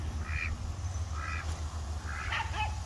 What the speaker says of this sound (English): My daughter's over there trying to catch Mama Duck.